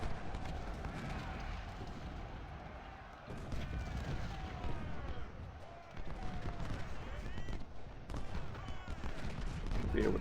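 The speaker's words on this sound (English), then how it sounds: "A lot of cannon on this ridge." Cannons on a ridge fire repeatedly in the Ultimate General Civil War game at Antietam, dull booms scattered beneath someone talking throughout.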